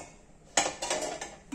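A metal ladle is lifted from a cooker pot of boiling gram curry and clinks against the rim several times, sharp close taps in quick succession after a quiet simmering start.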